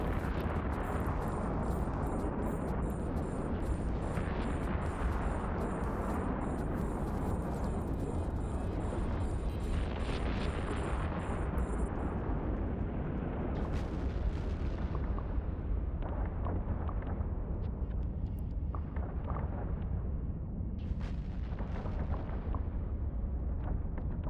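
Ship weapons from the space game EVE Online firing during a level 4 mission, repeated booming shots and blasts at an even pace, rather faint overall, the rumble continuing after a high electronic tone fades out midway.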